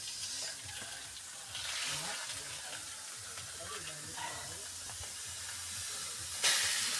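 Meat frying in a pan gives a steady, moderate hiss-like sizzle across the whole stretch, with a brief louder burst near the end and faint background noise.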